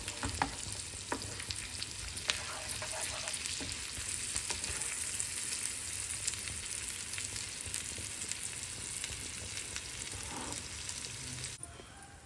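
Garlic and ginger sautéing in butter for garlic masala pav, a dense close sizzle with scattered spatula scrapes and crackles running steadily throughout, no voices over it.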